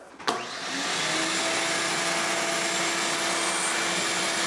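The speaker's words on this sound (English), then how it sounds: "We're all vacuumed off, and I think we can finally put some primer on the wall." A vacuum cleaner switches on with a click and rises to a steady, loud whine while cleaning up in a house before the walls are primed, running continuously with no talk.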